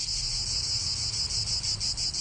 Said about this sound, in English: The sound of cicadas rubbing their legs to their bodies is like a dinner bell to many people on the planet.